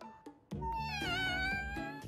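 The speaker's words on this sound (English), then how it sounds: "Well, that's a kitten." A kitten meows in a drawn-out, wavering cry that swells after a couple of short soft chirps, close and clear, with no talk over it.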